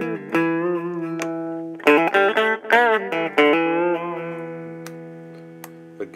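An electric guitar, a Strat-style partscaster with two humbuckers wired in parallel, rings out clean sustained chords, with a fresh strummed chord change near two seconds and a few more changes before a long, slowly fading ring, alone and fairly loud.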